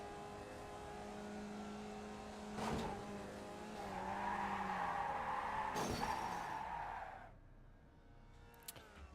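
A race car spins out at Talladega in the iRacing sim, engine droning and revving while tires squeal and skid in long sliding tones, broken by sharp thumps, before the noise drops away to near quiet.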